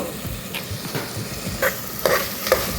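Vegetables for vegetable khichdi fry in a pan while being stirred: a steady sizzle with a few louder scraping strokes of the spoon near the end, and no voices.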